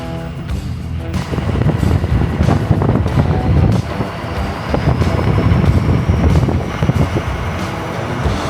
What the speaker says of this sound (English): it's pretty windy. Wind's blowing the dust all over the place.